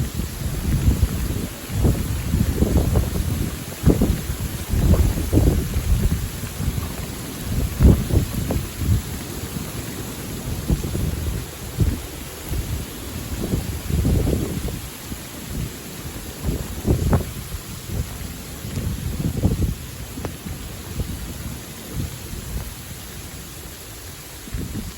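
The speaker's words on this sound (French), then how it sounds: "Une tempête de grêle là, littéralement." Wind-driven hailstorm on 10 February 2025 with a steady rushing roar and irregular louder gusts and clattering bursts throughout, continuous and fairly close, with no voices.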